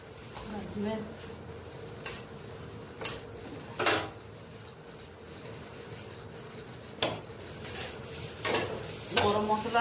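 A semolina filling for banana-flower kachori, with ghee and garam masala, is stirred in a pan: a soft ongoing sizzle broken by repeated spatula scrapes and metallic clanks against the pan.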